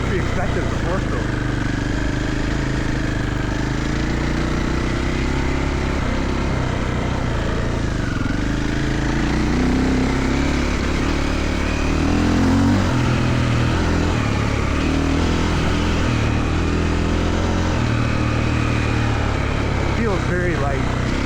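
A Triumph TF450E four-stroke motorcycle runs steadily up close, its engine droning loudly as the revs rise and fall gently under light throttle and engine braking, with a rider talking over it at times.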